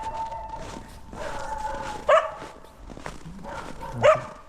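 Two sharp dog barks ring out a couple of seconds apart over faint background noise and distant murmuring.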